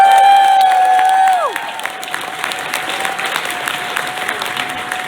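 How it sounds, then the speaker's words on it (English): A crowd claps and cheers continuously, loud and close, while a sustained electronic tone falls away and a thinner tone lingers beneath. "So give it one more round of applause for this kid."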